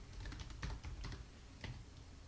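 Keys typed on a computer keyboard while entering a root password during a server installation: a quiet run of irregular clicks, a short burst of keystrokes with a pause before a final tap, with no talk.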